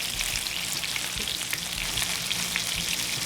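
Fish fillets fry in plenty of oil in a pan, giving a loud, dense and continuous crackling sizzle close by, with no talking.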